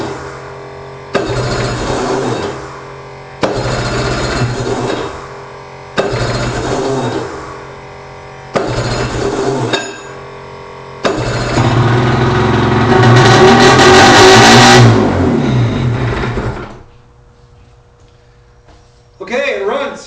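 A Suzuki Wetbike engine, one of a 1979 or 1986 race-modified pair, cranks in several short loud bursts, then catches and runs rough and loud for a few seconds before cutting out, followed by one final brief burst.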